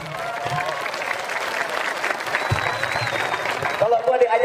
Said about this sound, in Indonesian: Tepuk tangan dulu loh.